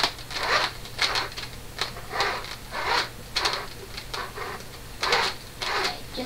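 An LSS 202 sewing machine stitches and backstitches under a foot pedal, giving short bursts of close mechanical whirring separated by brief pauses, about eight runs in quick succession over a faint steady hum.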